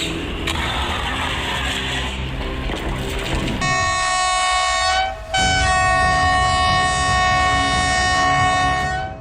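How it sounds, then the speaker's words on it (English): A train thunders through a level crossing and strikes an empty car, a loud rushing crash of wheels and impact noise giving way to a long, blaring multi-tone train horn that holds steady close by. "These demonstrations show the real impact a train has on an empty car"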